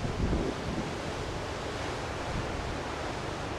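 Wind blowing across the rocky coast at Land's End, a moderately faint, steady rushing roar with a slightly stronger gust at the start, then an even, unbroken hiss of air and distant surf.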